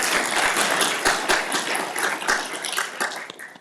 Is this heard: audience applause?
yes